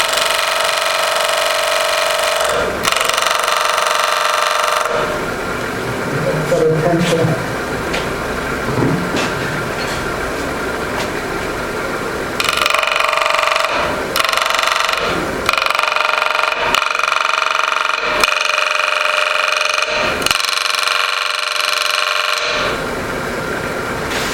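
Scraper cutting a groove into a spinning carved square wood platter on a lathe, a steady harsh whirring scrape broken into on-off passes with short pauses, fairly loud and close throughout.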